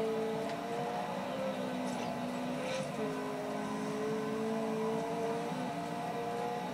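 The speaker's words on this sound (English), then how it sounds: "My friend's just going to drive you off to the place where it is. In a nice Ferrari." A Ferrari in Forza Horizon cruises with a steady humming engine tone, pitch wavering slightly and dipping once midway, sitting under a faint wash of ambient game noise.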